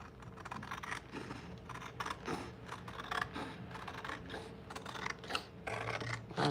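Scissors snip through paper for custom princess party decorations: a quiet, close series of repeated crisp cuts and rustles in an otherwise still room.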